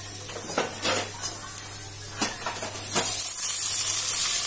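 Sliced onions hit hot oil for mint biryani, a sizzle that rises and thickens into a steady, bright hiss, with a few utensil clinks and stirring scrapes early on, close and moderately loud, no talking.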